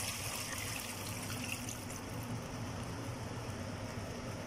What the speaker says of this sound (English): add in 2 big cups of water.